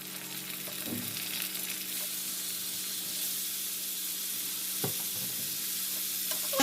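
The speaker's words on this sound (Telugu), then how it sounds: "ఇలా ఎర్రగా వేగినాక ఆనియన్స్ దీంట్లో చికెన్ వేసుకుంటాను." Chicken pieces frying with reddish-browned onions in a pan for a Hyderabad-style chicken curry, a steady hissing sizzle with occasional stirring knocks, fairly quiet and continuous.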